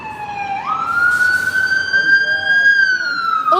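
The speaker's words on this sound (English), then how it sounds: "There's always sirens." A loud emergency vehicle siren passes close on a city street in Portland's Chinatown, its wail sweeping up and holding a steady high tone, with traffic rumble beneath.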